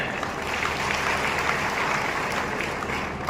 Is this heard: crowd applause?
yes